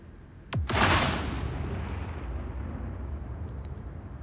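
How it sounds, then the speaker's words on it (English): A size 5 bomb explodes against the Idris ship in a space video game: a sudden deep boom after a brief whooshing drop, then a long rumbling decay, with a faint electronic chirp afterward. "Okay, one size 5 bomb."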